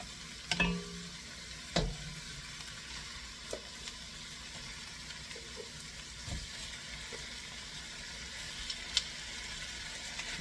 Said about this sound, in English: Okay, I'm going to put the lamb in.